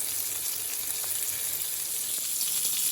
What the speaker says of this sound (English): let them cook, let the oil render from the fat.